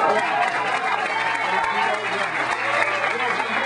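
A large audience at a Dennis Kucinich rally in Asheville claps and cheers in a dense, continuous wash of applause, fairly close and sustained throughout, with no distinct voice standing out.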